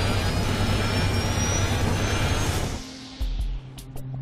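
A fixed-wing airplane's engines roar loudly and steadily, then the sound drops off abruptly into quieter rumbling, with a few faint thumps after the cutoff, as the plane goes into a stall.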